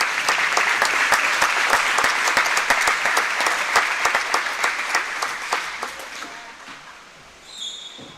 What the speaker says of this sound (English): Let's give a round of applause for these parents as well.